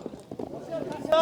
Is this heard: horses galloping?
yes